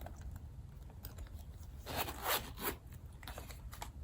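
A zipper is drawn along a rose-colored Chanel leather wallet with silver hardware and a leather pull tab, producing a soft, close rasping run that peaks midway, faint and without speech.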